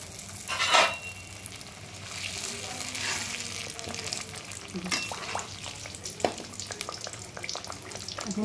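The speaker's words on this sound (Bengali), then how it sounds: "আমি এটাকে তেলের মধ্যে দিয়ে দিচ্ছি।" Potato-stuffed flour dough frying in hot oil, a steady moderate crackle and bubbling with a few louder spatters and stirring scrapes, no voices.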